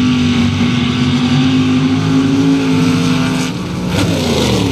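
A 1932 Ford hot rod with a 498 Chevy engine roars loud and steady at a sand drag race. The engine holds a sustained high-rev drone, then its tone shifts near the end as it pulls away.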